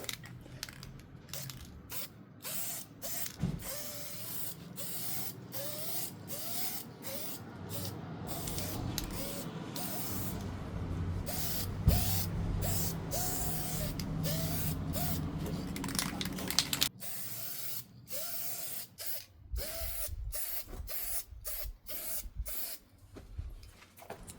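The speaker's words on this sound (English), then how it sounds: "first coat's on" Aerosol Duplicolor paint sprayed onto faded Hummer H3 trim in repeated hissing bursts of varying length, close and steady, with brief pauses between passes and a longer continuous spray in the middle.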